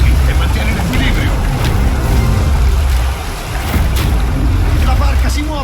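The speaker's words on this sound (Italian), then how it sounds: "La barca si muove!" A boat pushes across the water in the God of War video game, with a steady low rushing of waves and wind over the whole stretch, and voices cut in here and there.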